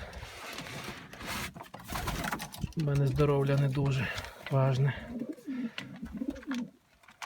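Pigeons in a backyard loft coo in a couple of sustained, throaty bursts close by, mixed in with someone speaking.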